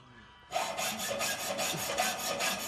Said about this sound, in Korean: 톱을 잡은 손에 더욱 힘이 들어간다.